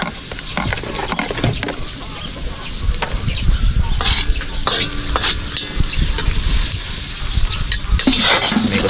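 Plenty of garlic frying in a pan, a loud close sizzle with stirring scrapes and occasional clinks of metal against the pan, steady throughout with no clear talking.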